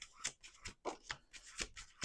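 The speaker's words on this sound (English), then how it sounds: "I'd like to get 3 or 4 cards and then do 2 more shuffles." Playing cards are shuffled by hand during a tarot-style reading, giving a quick series of crisp riffling and rubbing bursts, close and fairly soft, with no voices.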